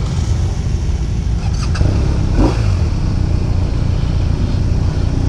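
A BMW R1250 RT touring motorcycle engine runs close by at a demo day in Austin, Texas, giving a steady, loud rumble with a slight rise in revs midway and no talk.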